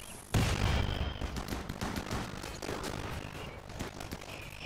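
Defensive turrets open fire during a battle in the RimWorld video game, a rapid volley of short crackling shots that starts abruptly and rattles on at moderate volume with irregular bursts.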